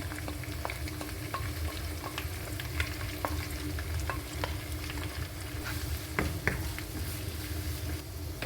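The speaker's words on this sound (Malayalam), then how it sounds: "ഇനി നല്ലോണം ഒന്ന് ഇളക്കി കൊടുക്കാം." Crushed shallots fry in a pan as chicken is prepared, with a steady bed of sizzle broken by scattered soft scrapes and taps of a stirring spoon, close and continuous with no talking.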